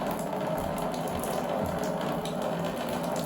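Small homemade waterfall pouring into a bowl, giving a loud, continuous rushing splash with no pauses, close up.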